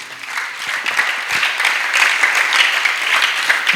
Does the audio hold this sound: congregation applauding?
yes